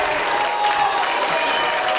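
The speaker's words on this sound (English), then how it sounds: "Crowd encouraging them." Crowd in a high school gym cheers and claps during a Hinton at Seiling boys basketball game, a dense, continuous wash of noise from the stands.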